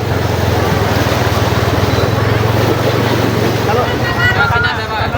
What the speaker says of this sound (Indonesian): Ada air bah turun.